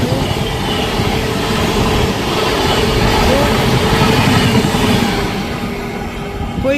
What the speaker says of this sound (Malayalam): അടുത്ത ട്രെയിൻ വരുന്നു.